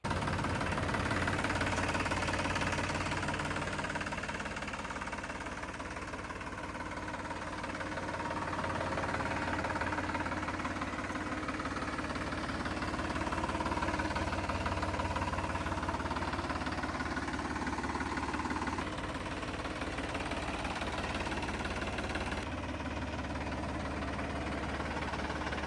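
A 2024 Sonalika Sikander DI 745 tractor diesel engine idles nearby with a steady low rumble and a fine rhythmic knock that holds evenly throughout, with no voices.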